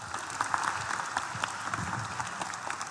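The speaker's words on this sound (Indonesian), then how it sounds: "Kita tepuk tangan dulu buat 3 teman kita ya." Students at a school worship service clap for three classmates in steady, even applause that fills the room, moderately loud, with a faint voice underneath.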